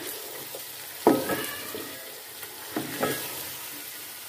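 Half a kilo of chicken stirred and frying in a pan with spices for a white handi, with a soft background sizzle and a few distinct stirring scrapes and clatters near the start and middle.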